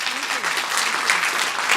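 An audience at a debate event applauds in a steady, dense wash of clapping, with talk faintly audible underneath.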